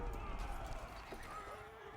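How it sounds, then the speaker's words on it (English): Horse archers gallop in Age of Empires 4, a quick, soft patter of hoofbeats with faint neighs, kept low beneath ongoing voices. "now the Horse Archers dive in"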